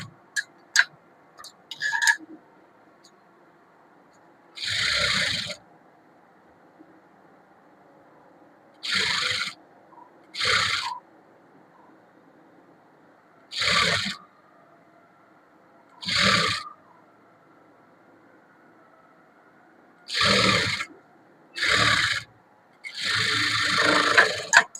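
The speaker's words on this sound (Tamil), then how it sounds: "கைக்கு டபுள் தையல் போடணும்." A sewing machine double-stitching the sleeve of a chudithar top runs in about eight short, steady buzzing bursts separated by quiet pauses, close and clear, with a few light clicks at the start and no talk.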